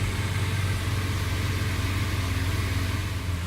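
A Lamborghini Aventador SV Roadster exhaust idles steadily with a deep, low rumble and constant hum, no revving, continuous throughout.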